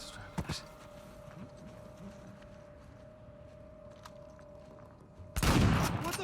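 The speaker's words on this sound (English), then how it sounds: "Came in from behind, one shotgun blast, clean takedown, and the second they opened fire" Gunfire in the video game Uncharted 4, with a sharp shot near the start over a steady hum, then a loud close shotgun-style blast and burst of fire at the end.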